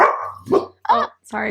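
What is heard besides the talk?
dog barking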